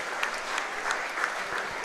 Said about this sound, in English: the crowd giving a standing ovation